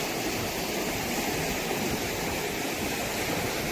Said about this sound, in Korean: 동네 한가운데 물이 이렇게 흐르고 있네요.